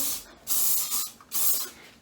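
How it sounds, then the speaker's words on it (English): Two bursts of aerosol hairspray, each a sharp, steady hiss lasting about half a second, close to the microphone with a brief pause between them. "then spray the hair"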